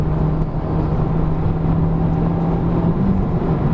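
A Honda Civic Type R engine droning steadily from the cabin as the car pulls up through the gears toward sixth, with a constant low hum and tonal whine, loud and unbroken, without speech.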